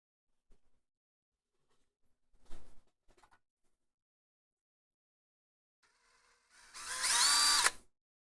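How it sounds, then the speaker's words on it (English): A power drill drills out a hole for panel mounts, one loud sustained burst of about a second near the end, with faint handling knocks earlier and otherwise quiet. "Get this thing drilled out."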